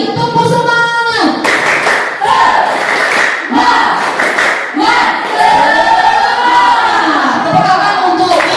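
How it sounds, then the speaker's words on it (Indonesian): A school group claps out a patterned spirit chant together, repeated clap bursts rising over loud crowd voices and calls, with people talking throughout. "Oke, tepuk semangat."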